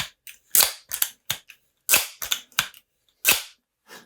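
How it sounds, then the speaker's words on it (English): Pump strokes on a Crosman 1377 air pistol, a series of sharp clacking and whooshing strokes in uneven clusters, fairly close and crisp with short silences between them. "watch that sound meter when I start to pump up our air gun"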